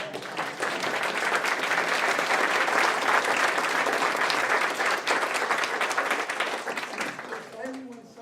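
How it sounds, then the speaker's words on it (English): An audience at a public meeting on a Highway 85 paid express lanes proposal breaks into sustained applause, dense clapping holding steady for several seconds before tapering off as a voice starts to speak. "everybody needs to give Cheryl a round of applause."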